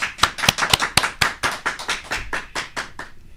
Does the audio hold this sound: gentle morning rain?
no